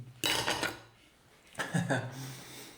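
A metal spoon scrapes porridge straight from a saucepan in two distinct bursts, each a close, gritty scrape with a light metallic clink, separated by a quiet pause.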